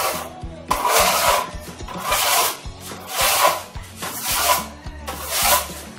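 A steel trowel burnishes cement on a wall in rhythmic strokes, each one a close, gritty scraping swish, about six passes repeating roughly every second with brief pauses between.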